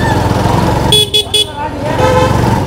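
A TVS Sport commuter motorcycle sounds its horn in traffic, a short bright honk around one second in, with someone speaking over the street noise before and after.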